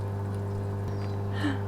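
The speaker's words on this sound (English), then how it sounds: "That's it venting out the water." Hot tub venting its water: a constant low pump hum runs throughout, and a short rushing gush of water swells near the end.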